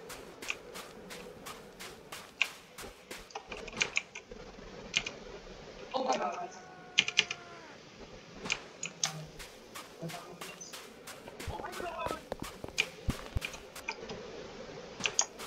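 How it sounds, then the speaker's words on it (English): Rapid, irregular clicking of a computer mouse button during a PC game session, sharp ticks repeating throughout alongside keyboard taps, with occasional speech-like voices in the background. "I keep clicking the mouse button"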